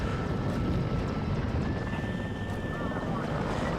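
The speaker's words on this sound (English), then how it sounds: "look at us getting absolutely wrecked by this Mi-24" A Mi-24 attack helicopter in the video game Warno makes a steady, loud, rumbling rotor drone with a thin whine, while a person talks over it.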